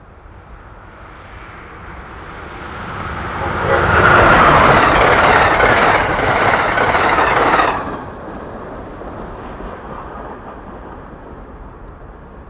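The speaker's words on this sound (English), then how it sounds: "A trackmobile started to shift cars at Espenshade Mills while I waited for train 670" A trackmobile shifts railroad cars at Espenshade Mills on the Keystone Corridor, giving a steady rolling rumble with clattering wheels that swells louder midway and then eases back to a lower drone.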